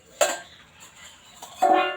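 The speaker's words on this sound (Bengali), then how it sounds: "20 মিনিট পর ঢাকনাটা খুলছি।" A metal lid is lifted off a pot of boiled jackfruit, giving two sharp clinks of metal on metal a little over a second apart, with a quiet gap between them, close by.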